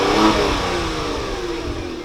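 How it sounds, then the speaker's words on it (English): A Kia Stinger GT's engine and exhaust rev loudly near at hand, a deep burst that peaks early and then settles into a sustained, slowly falling drone. "Start her up. Give it a few revs."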